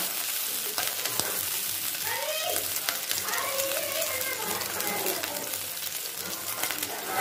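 Ginger paste stirred in hot oil for a Bengali pui shak machuli chorchori, a steady sizzle running throughout with scraping strokes, while children's voices and chatter carry faintly in the background.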